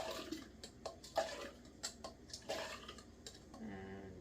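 Water sloshes and splashes as fruits and vegetables are rinsed back and forth in a bowl of Kangen water, with irregular close swishing bursts and light clinks against the bowl.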